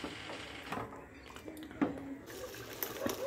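Curdled milk for homemade paneer poured through a strainer, giving a soft, close trickling and pattering of liquid with a few small splashes over about three seconds.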